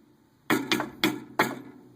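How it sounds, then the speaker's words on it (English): Four loud, close metallic hammer blows on a bolt during brake work on a Fiat 1200, struck in quick uneven succession with short ringing decays. "And now we use the hammer."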